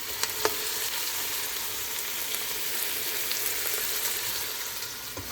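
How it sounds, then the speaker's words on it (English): Rice and vegetables stir-fry in a pan over medium heat, giving a loud, dense, continuous sizzle. A few faint clicks of stirring appear near the start and end. "keep on stirring and use medium heat"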